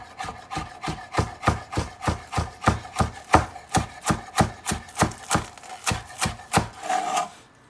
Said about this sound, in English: and we're just gonna start chopping